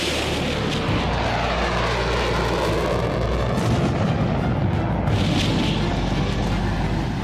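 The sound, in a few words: military jet aircraft flying steep-angle dive bombing runs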